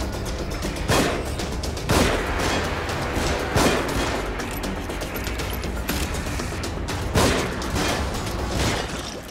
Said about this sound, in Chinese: 谁来开枪？